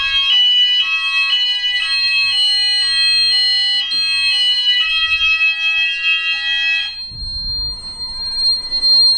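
An Apollo XP95 Discovery fire alarm system sounds loud and close in a house, its sounder pulsing in a steady repeating tone pattern for about seven seconds before stopping, leaving a low rumbling noise.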